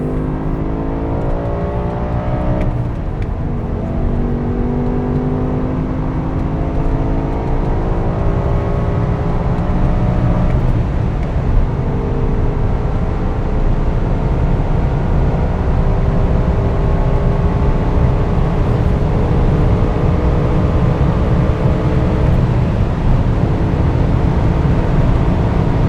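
A BMW E60 M5 with its V10 engine and 6-speed gearbox drives along, its steady droning engine note rising and falling through gear changes with continuous road and wind noise, close and loud throughout.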